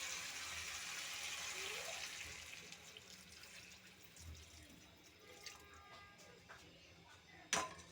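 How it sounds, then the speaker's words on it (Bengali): Water is poured into a cooking pan of vegetable gravy for rohu fish curry, a faint hissing pour that fades over the first few seconds, followed by quiet light clinks. "এখন আমি জল দিয়ে দেব।"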